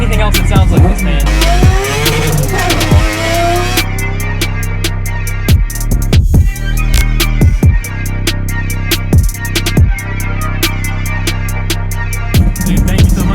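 Naturally aspirated three-rotor 20B Mazda RX7 engine revving hard toward 10,000 rpm, a loud, close, raspy rotary scream with repeated sharp blips and rising sweeps, dropping between pulls and firing off again.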